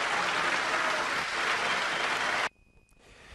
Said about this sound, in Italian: Gli applausi per lui si sprecano.